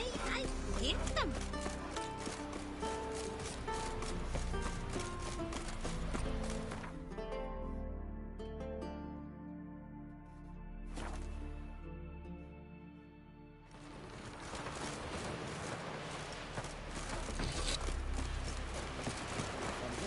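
Horse hooves clip-clop in The Witcher 3 game world, a rhythmic run of hoofbeats that quiets midway and then resumes strongly, with background game sounds and music throughout.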